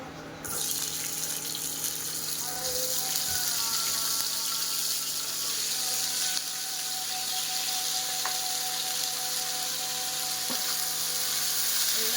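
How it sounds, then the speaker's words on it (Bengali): Cauliflower florets fry in hot oil, giving a loud, dense, continuous hiss and crackle that holds steadily from start to finish with no talk. "এই ফুলকপিগুলো ভেজে নেবো সব তেলে"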